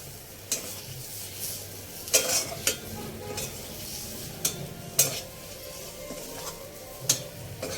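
Spiced potato filling for Bengali-style aloo chop being stirred with a spoon, coriander leaves and ground roasted spice mixed in: soft scraping strokes with sharp clinks against the pan at irregular intervals, close and fairly quiet.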